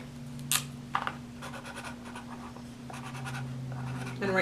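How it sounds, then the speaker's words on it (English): A marker or pen scratches a name onto a strip of masking tape stuck to a watercolor palette, soft close scribbling strokes in short bursts over a steady low hum. "and write your name on it."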